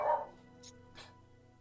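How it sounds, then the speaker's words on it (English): A dog barks once, fairly loud and close, then gives two fainter, shorter yips over a low background hum, with no talk. "Dog's barking at something."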